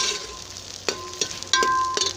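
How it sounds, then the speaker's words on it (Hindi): Onions frying in a pan until light brown, a close, bright sizzle broken by a few sharp scraping stirs of the spoon. "प्याज को हमने बिल्कुल लाइट ब्राउन करना है।"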